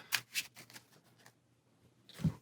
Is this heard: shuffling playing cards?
yes